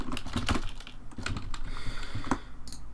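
Fingers type on a computer keyboard, an irregular run of crisp close key clicks and taps with short pauses, no talking.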